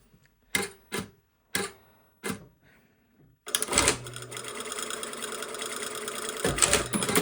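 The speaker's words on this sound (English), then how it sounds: "So I'm just going to go ahead and sew everything together" A sewing machine stitches a facing onto a bodice: a few separate clicks and thumps first, then the motor runs in a steady, close whirring stretch to the end.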